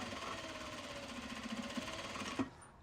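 Sewing machine running steadily as it stitches the side seam of a Japanese fabric bag, a continuous close whirring hum with a few brief louder ticks before it stops abruptly.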